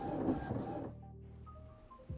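An Epson Expression Home XP-247 inkjet printer printing a nozzle check page, with a close mechanical whir and rumble that drops into softer motor tones and beeps, ending with a clunk.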